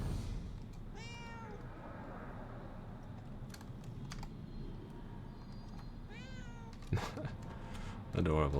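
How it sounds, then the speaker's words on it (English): A cat in the video game Murdered: Soul Suspect meows twice, short and clear, a few seconds apart. Keyboard typing and clicks run underneath, and a quiet game ambience hums throughout. "Gotta be a reason this cat's here."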